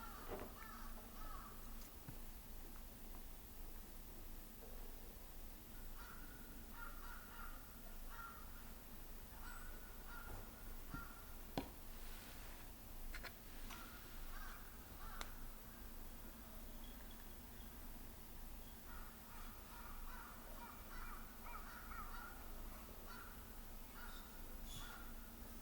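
Crows cawing repeatedly in the distance over a quiet outdoor background, calls coming in scattered bursts.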